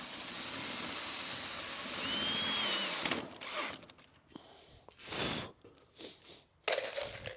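A power drill pre-drills holes during greenhouse assembly, whirring continuously for about three seconds, then breaking into several short bursts with pauses and handling noise between them, close by.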